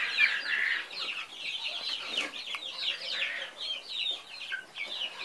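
Backyard chickens on a small homestead plot clucking in a busy, overlapping chatter, several birds close by with irregular calls throughout and no talking.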